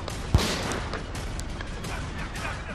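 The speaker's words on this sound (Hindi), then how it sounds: "शूटर ने ट्रंप की जान लेने के लिए ही ये फायरिंग की थी" A single sharp gunshot cracks at a Donald Trump rally in Butler, Pennsylvania, loud and near, followed by a low rumbling crowd noise.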